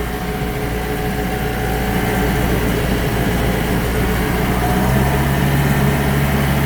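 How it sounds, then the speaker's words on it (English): A Cummins engine in a restored tractor runs at a steady idle, a continuous low rumble with a faint mechanical whine that holds unchanged throughout. "Cummins engine."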